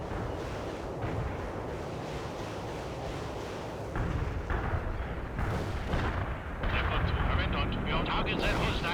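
Heavy artillery fire in the video game World in Conflict: a steady barrage of deep rumbling booms and blasts that grows louder partway through, with faint voices mixed in.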